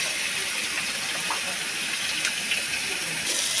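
Green chilies are added to eggplant and onion frying in oil, and the pan keeps up a constant close hissing sizzle with faint crackles throughout.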